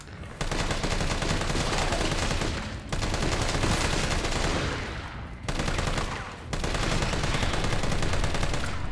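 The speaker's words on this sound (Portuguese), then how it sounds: "É muito tiro pra matar o bicho." Rapid bursts of automatic gunfire in the video game Resident Evil 3 rattle loudly in long sustained volleys, separated by brief pauses, with no talking.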